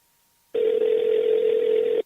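An unanswered phone call gives a single steady electronic ringing tone, a clean, even hum lasting about a second and a half that starts and stops abruptly with silence around it.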